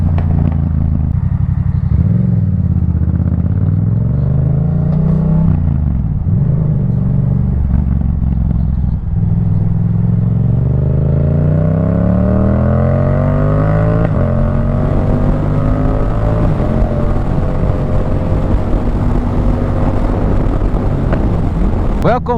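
Motorcycle fitted with an aftermarket exhaust cruising on the E12 highway near The Hague, its engine drone rising and falling through gear changes, loud and close under steady wind buffeting.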